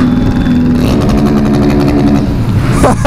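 A supermoto motorcycle engine on a 2017 Christmas ride roars loud and close in a steady, sustained drone, with a slight rise in pitch near the end.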